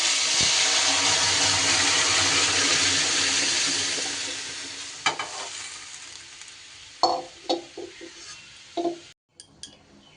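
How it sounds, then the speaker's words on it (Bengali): Lentil dal poured into a hot pan over fried tempering spices gives a loud, steady hiss and sizzle that fades over several seconds, followed by a few scattered clinks and stirring scrapes. "ডালটা দিয়ে দেব"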